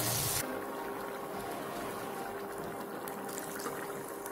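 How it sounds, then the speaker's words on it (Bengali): Water pours steadily into a pot of browned chicken for a light Bengali chicken curry with potatoes, a continuous close splashing gush after a brief louder start, with no talking. "পরিমাণ মতো জল দিয়ে দেব।"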